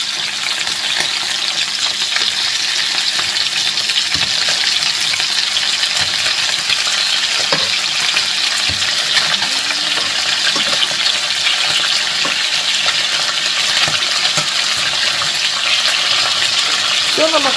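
Food sizzles and crackles steadily in a hot pan over maximum heat, a continuous frying hiss with occasional small pops and scraping, close and loud.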